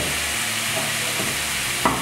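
Chopped cilantro stirred into onion frying in a pan, a steady bright sizzle throughout with soft scraping of stirring and a small clack near the end.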